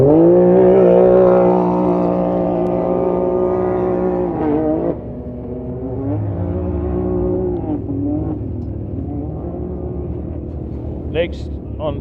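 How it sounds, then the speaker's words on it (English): A turbocharged 2018 CanAm Maverick X3 side-by-side on a race track, its engine droning loud and near in a sustained high rev that drops and wavers as it shifts, with a brief sharp whine near the end. "their CanAm Maverick turbocharged 2018 machine on track today"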